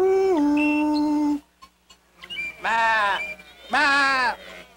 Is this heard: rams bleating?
yes